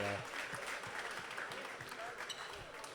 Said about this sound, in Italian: Applauso del pubblico del Pala San Quirico verso il